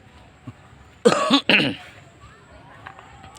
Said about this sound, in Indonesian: Batuk dulu, kurang ngopi nih.